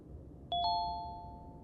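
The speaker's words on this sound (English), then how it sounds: "The CAD issued a single chime." A computer chime sounds once from a 911 dispatch console, a clean two-tone electronic ding that rings out and fades slowly over a quiet room hum.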